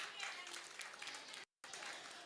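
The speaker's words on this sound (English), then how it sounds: "Give a big round of applause for this team." A round of applause for a team during a school faculty development session: a scattered clapping crowd under a speaker's voice, briefly cut off by a moment of silence before resuming.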